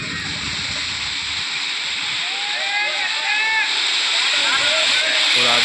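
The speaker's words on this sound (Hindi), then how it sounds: "कितनी तेज बारिश हो रही है।" Heavy monsoon rain pours onto a flooded street in Vadodara, making a dense, steady rushing hiss with sloshing water throughout; high chirping sounds briefly rise midway over the constant downpour.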